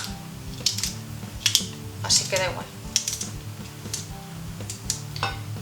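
A knife chops garlic quickly on a board in irregular taps while a person talks over it.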